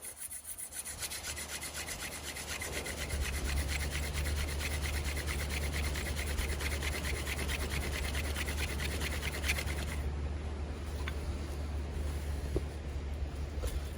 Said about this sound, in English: I'm doing a modified type of hand drill here.